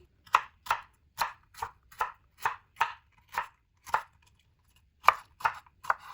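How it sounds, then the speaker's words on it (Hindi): A knife chops cleaned liver into long strips on a board, a dozen crisp, evenly spaced cuts close and clear, with a short pause before the last few strokes. "अब कटिंग हमने इस तरह करनी है, लंबी।"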